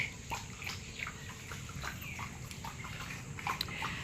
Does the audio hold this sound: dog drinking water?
yes